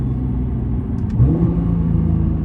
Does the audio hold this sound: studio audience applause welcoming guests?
no